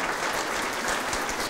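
An audience at a German power-station cultural event applauds for Herr Glab with steady, dense clapping that runs through the whole moment at a fairly loud level.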